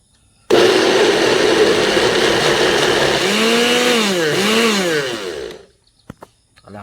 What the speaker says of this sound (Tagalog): i-blender na natin yung ating hiniwang saging kanina